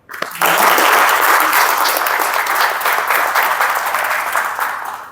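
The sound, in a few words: audience applause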